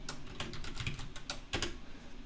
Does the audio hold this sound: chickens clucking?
no